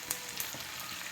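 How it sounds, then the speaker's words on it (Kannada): Spices tempering in hot oil for tomato rasam, a brief steady sizzle with a few crackling pops, close and moderately loud, no voices. "ಒಗ್ಗರಣೆ ಕೊಡೋಣ"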